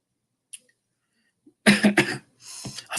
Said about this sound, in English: I've got a bit of a tickly cough